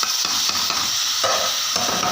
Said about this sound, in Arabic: حمرت البصل مع الرز زي ما انتم شايفين كده